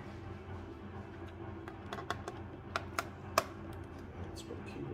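Keys pressed on a laptop keyboard damaged in postal shipping, a sparse series of soft, close clicks and taps, a few sharper, over a low steady hum.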